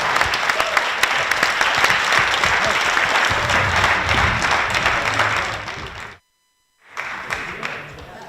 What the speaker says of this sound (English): Please give a final round of applause to our candidates and wish them good luck in the September election.